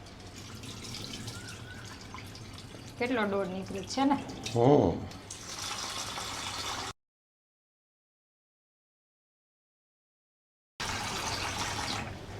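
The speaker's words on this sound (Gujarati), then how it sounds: "પાણી ચોખ્ખું થાય ને ત્યાં સુધી ધોઈ નાખવાનું છે" Lentils and rice are washed under running water, a steady tap stream with sloshing and dripping, brief speech over it, then a silent gap before the water resumes.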